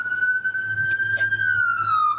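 A loud siren sounds, a steady wailing tone that slowly rises and falls, with faint background voices beneath it.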